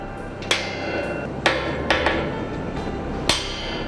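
A hammer strikes metal five times at uneven intervals during tower crane climbing work at a high-rise construction site, each blow ringing sharply over a low rumbling background of machinery.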